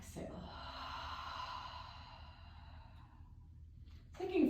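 A deep, long exhale during Pilates breathing on a reformer, a soft breathy rush that tapers off gradually, close and quiet, with a brief sharp sound at the end.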